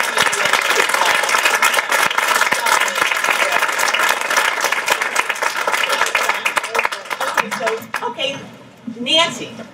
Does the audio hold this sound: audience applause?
yes